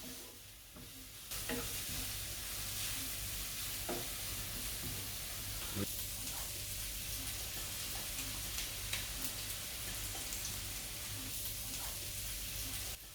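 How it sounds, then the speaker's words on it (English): Onions frying in a pan for chickpea masala, cooked until brown: a steady bright sizzle runs throughout, with occasional soft clicks and stirring scrapes layered over the continuous hiss. "we're going to let that cook until the onions become nice and brown"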